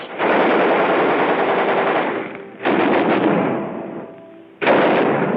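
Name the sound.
Marines test firing machine guns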